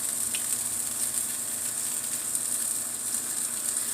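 A patty seasoned with smokehouse maple seasoning warms in a pan, giving a soft, steady sizzle that holds even and fairly quiet throughout.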